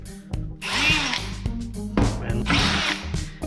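A power drill in plain drill mode bores into a workpiece, two loud whirring bursts of the motor under load separated by short pauses, close by with no speech.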